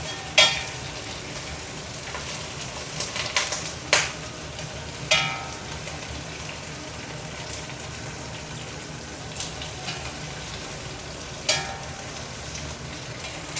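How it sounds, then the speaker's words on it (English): Prawns fry in a pan with a steady low sizzle, broken by a few sharp clatters and scrapes as they are moved and flipped; no voices. "you just want to cook the prawns until it turns golden pink or orange on one side and then flip it over"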